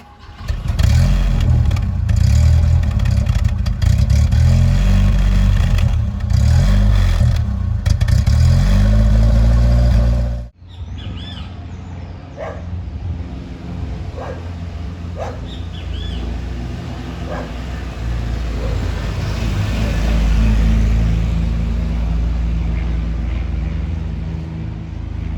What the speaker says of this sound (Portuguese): Vocês vão ver que a lenta dele ele tá um pouco morrendo.